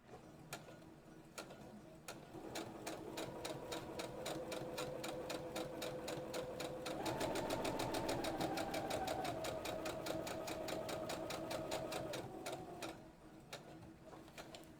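Sewing machine stitching fabric for bow ties, its rapid mechanical ticking running steadily and close, speeding up and growing louder through the middle before easing off near the end, with no talking.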